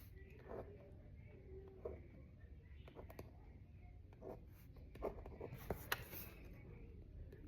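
A pen writing letters on paper, soft scratchy strokes in short bursts, close and quiet, with a voice talking over the writing.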